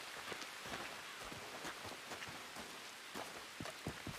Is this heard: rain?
yes